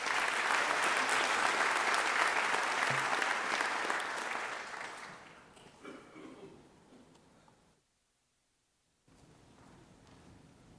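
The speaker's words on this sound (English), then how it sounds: "Let's hear another round of applause for all these wonderful people in front." An audience at a summer graduation celebration applauds loudly, a dense sustained clatter of many hands that fades over several seconds into scattered claps and rustling, then a short silence.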